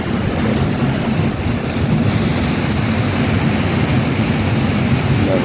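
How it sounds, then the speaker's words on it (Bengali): Waterfall in Kashmir with water rushing continuously, a loud, dense roar close by mixed with wind buffeting the microphone. "এই যে জলের শব্দ দেখো"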